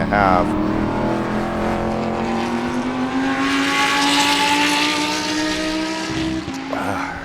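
Race cars at speed around the Sebring short course during a Spec Corvette and GT sprint, engines droning loudly and continuously with a rising pitch and tire noise, a commentator's voice faintly over them.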